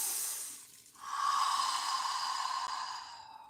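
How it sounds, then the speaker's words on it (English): A man breathes in slowly and deeply while bracing against a wall, a long airy inhale that swells after a short pause and holds steady, fairly close and quiet, with no talking. "I'm breathing deep"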